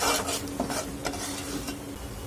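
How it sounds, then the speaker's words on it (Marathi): Masala sautéing in oil for a dhaba-style rajma chole, a dense close sizzle with a few faint scraping stirs mixed in, steady and fairly loud throughout. "मसाल्याला तेल छान सुटूपर्यंत आपण परतून घेणार आहोत"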